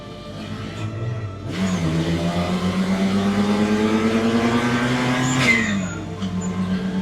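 A VW Golf 1 Cabrio with a G60 engine runs alone, a low idle rising into a steady, loud drone that climbs gently in pitch before easing back down near the end.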